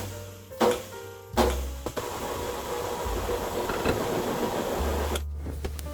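A stand mixer pulses powdered sugar into frosting for a coconut cake with short whirring motor bursts and then a longer steady run, close up with faint clattering and no talk.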